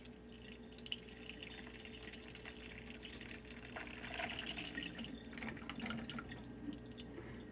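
Thick blended frozen blueberry smoothie poured out of a NutriBullet blender, a faint, continuous wet glugging and dripping that grows slightly denser partway through, with no voices.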